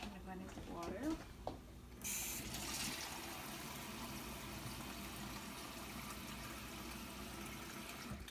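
Tap water pours steadily into a cooking pot for making rice, a continuous close rushing and splashing that begins abruptly after a brief quieter moment and runs on without pause.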